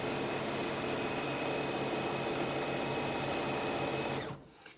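A Bernina 790 sewing machine runs steadily while quilting, a continuous loud, even mechanical whir with a fast regular needle rhythm that stops abruptly just before the end.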